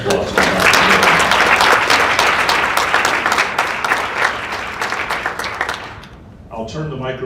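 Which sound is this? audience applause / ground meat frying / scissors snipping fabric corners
audience applause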